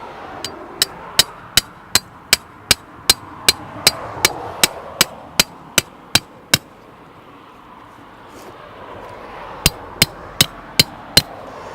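A rat bait station stake is pounded into the ground beside a house: about sixteen evenly spaced, sharp hammer blows ring close by, then a pause, then five more strikes.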